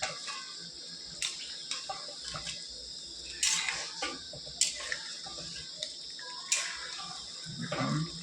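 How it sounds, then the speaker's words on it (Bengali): Water poured onto marinated chicken in a pan, a steady splashing wash with a few sharper clinks, close and fairly loud throughout with a faint insect-like hiss underneath. "আমরা জল দিয়ে দেবো চিকেনটা সিদ্ধ হওয়ার জন্য"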